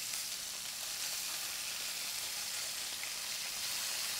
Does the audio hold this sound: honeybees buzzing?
no